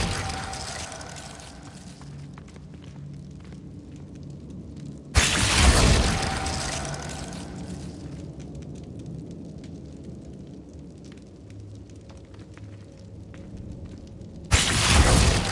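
Incendio fire spell cast in the Hogwarts Legacy video game, heard as two loud whooshing bursts of flame that flare up abruptly, one mid-clip and another near the end, over a steady ambient rumble.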